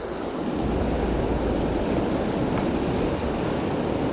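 Steady, dense rush of water tumbling over small cascades in a Utah river at a fly-fishing spot, a continuous broadband wash holding even throughout with no voices.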